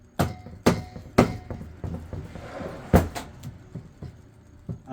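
Several sharp hammer taps on metal to loosen a part, spaced irregularly, loud and close, with a few softer knocks between the strikes.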